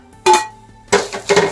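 Spoon scraping and clinking against a pan while Chettinad chicken curry with half a grated coconut is stirred, two short bursts of metallic clatter separated by a quiet pause, close by with no talk.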